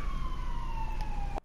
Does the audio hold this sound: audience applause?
no